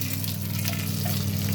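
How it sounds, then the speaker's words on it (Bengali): Pieces of fish frying in a small amount of oil, a constant close sizzle and crackle over a low steady hum, brief and unbroken. "একদম অল্প তেলে মাছ ভাজা হচ্ছে।"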